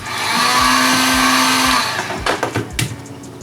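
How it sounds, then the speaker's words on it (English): A heat gun runs loudly with a steady motorized whine and rushing air, then cuts back to uneven bursts near the end, during a Onewheel XR grip and footpad swap. "Quicker is a heat gun."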